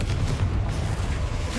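Confringo fire spell blast from Hogwarts Legacy, a dense, sustained low rumbling boom that fills the whole moment, loud and close with no pause.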